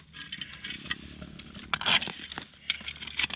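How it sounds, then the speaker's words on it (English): Raspy, crackly metal detector signal while hunting for gold in the hot Arizona desert, a scratchy broadband hiss with brief rising squeals and crinkly bursts over a low hum, close and moderately loud. "Sounding kind of raspy like trash now though"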